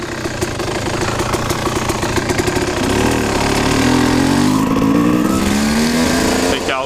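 A Kawasaki KX 250 dirt bike engine runs loud and close, a rapid throbbing idle that rises into a revving drone, and a voice is heard alongside it.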